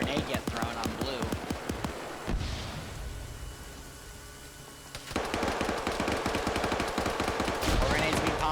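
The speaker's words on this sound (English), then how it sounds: "Steven firing more rounds in here, and he is just absolutely shredding this side" Rapid gunfire from Arma 3 combat in a compound, bursts of close automatic shots with a brief quieter lull in the middle before the shooting resumes, with talk running underneath.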